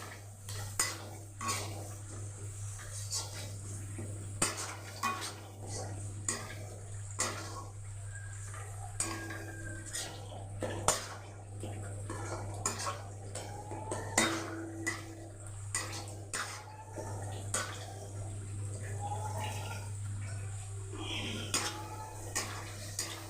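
A metal spoon scrapes and taps against a pan in an irregular stirring rhythm as ginger garlic paste fries for chicken kosha, with faint frying beneath and a steady low hum throughout.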